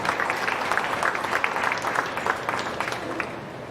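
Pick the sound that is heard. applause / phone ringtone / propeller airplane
applause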